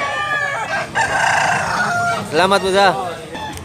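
A fighting rooster at a cockfighting venue in Tabunok, Talisay, Cebu crows loudly and clucks nearby, while people talk in the background.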